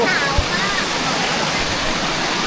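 Constant, full roar of the Hin Tang waterfall at Nong Wua So, close and loud, with a faint voice briefly heard near the start.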